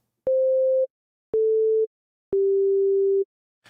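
Plain sine-wave oscillator tones from a Surge XT software synthesizer sound as three clean, pure notes. The first two are short, and the last is held longer and slightly lower. Silence separates each note.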